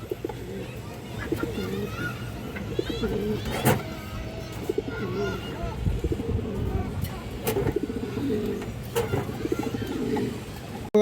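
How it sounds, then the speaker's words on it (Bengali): Pigeons for sale, including a large hen, coo repeatedly in low throaty bursts near the microphone, mixed with someone talking and passing car noise. "খুবই ভালো কোয়ালিটির কবুতর"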